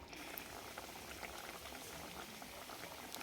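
Curry with stuffed ridge gourd and spice masala bubbling steadily in a pan, a dense continuous simmer with small pops and crackles, close and alone without talk.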